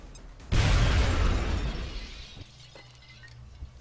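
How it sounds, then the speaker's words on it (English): Grenade explosion in the XCOM video game, one sudden loud blast that crashes in and rumbles with a shattering debris tail before fading, alone without talk. "I'm just gonna toss a grenade at him"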